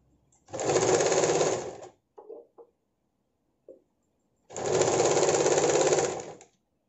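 A sewing machine stitching a sleeveless princess-cut blouse runs in two separate, even bursts of about a second and a half each, close and alone, with a few small clicks in the quiet gap between them.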